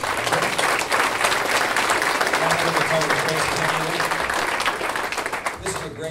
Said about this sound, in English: so please give Joe a round of applause